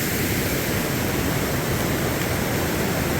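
Water flowing down a stream beneath a suspension bridge on a rainy trail, a steady close rushing wash with no break and no voices.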